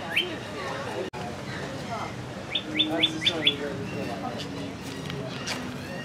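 Wild songbirds such as doves, cardinals and a blue jay chirp inside a wire-mesh aviary at an aquarium, with a quick run of five sharp, evenly spaced tweets mid-clip over a steady background murmur of distant voices.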